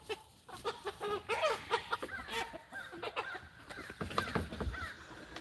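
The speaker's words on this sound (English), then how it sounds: "There's the meat chickens." Meat chickens on a farm clucking outdoors, a busy run of short fowl calls mixed with rustling and open-air noise at moderate distance.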